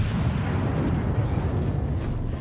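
A Scharnhorst battleship fires a gun salvo in World of Warships, a deep sustained rumbling boom that rolls on low and heavy throughout, with game noise layered on top.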